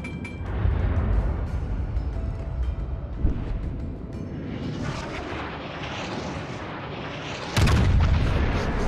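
Yamato battleship main guns firing in World of Warships Legends: heavy, continuous rumbling bombardment with a deep boom near the end, dense low-frequency roar throughout with no voices.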